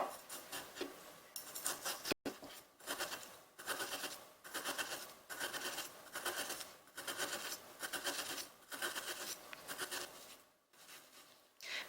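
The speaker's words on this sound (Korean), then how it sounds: "그 다음 이제 덩어리 편을 썰어줄게요." A knife cuts through a chunk of meat on a cutting board for Chinese-style dumplings, with steady, repeated close-up slicing strokes that come in quick rhythmic bursts, and no talking.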